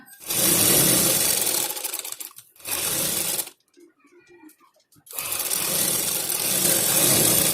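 A sewing machine stitches the V neckline of a cotton frock-style kurti. It gives a loud, close run of motor whirring, then a shorter burst, then faint handling noises, then a long steady run to the end.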